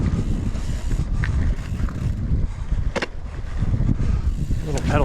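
Continuous wind rumble buffets the microphone during a mountain bike descent on Sedona's White Line trail, with scattered clicks and knocks from the bike over the rough ground.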